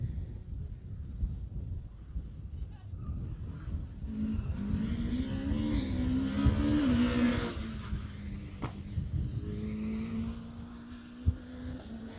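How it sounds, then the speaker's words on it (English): A historic Ford Anglia rally car at a Jersey rally stage approaches with a rising engine note, revs hard as it passes close by, then fades away, with wind buffeting the microphone throughout. "And that was Simon Lenoir and Katie LeBlanc in the Ford Anglia."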